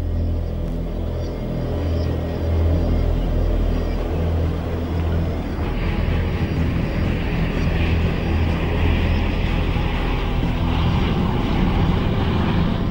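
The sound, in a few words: Trident jet airliner taking off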